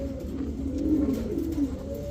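Pigeons on a pigeon farm, including Black Beauty pairs, coo softly and steadily in low, throaty rolling calls, with a couple of fuller coos standing out against quiet background hum.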